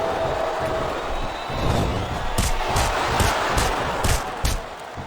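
A wrestling arena crowd at a WWE championship match reacts with a broad, loud murmur and rising cheers, with sharp thumps and bangs from the ring cutting through at intervals.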